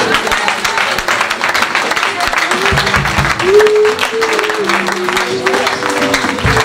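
A church congregation at a seminar claps and cheers in loud, sustained applause, with voices and a sung or held tone rising over the crowd noise throughout.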